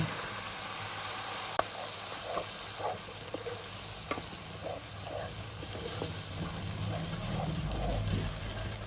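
Onion and ground spice paste frying in oil, a steady close sizzle with soft intermittent stirring scrapes running throughout, alone without talk.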